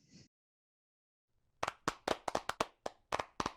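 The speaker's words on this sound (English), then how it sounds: "We applaud you again." A few people clapping at the close of an online conference talk, sharp separate claps in an irregular rhythm after a short silence, close and fairly faint.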